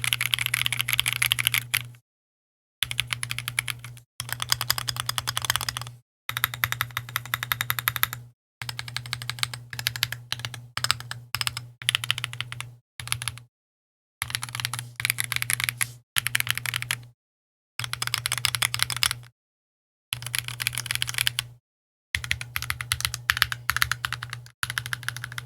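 Foam-modded mechanical keyboard typed on in quick, clattering bursts of keystrokes separated by short silences, close and fairly quiet.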